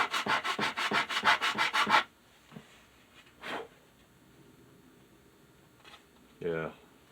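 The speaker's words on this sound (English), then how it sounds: "Let me carve on this for a sec." Hand carving and rubbing on the wooden body of a curved tri-tail guitar tuner, a quick run of about ten rhythmic rasping strokes up close, followed by quieter scattered scrapes and a brief rub near the end.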